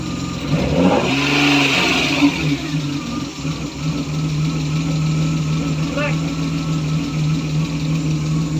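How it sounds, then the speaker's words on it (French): A BMW 320i Compact engine runs steadily near the microphone, briefly revving before settling into a smooth idle with a faint light ticking, while people talk over it. "On entend claquer le moteur. Ah, il y a un petit cliquetis."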